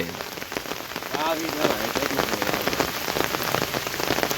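Rain falls steadily on a rainy day in a Bangladeshi village, a dense patter of drops striking nearby surfaces that grows slightly heavier partway through, with a faint voice briefly in the background.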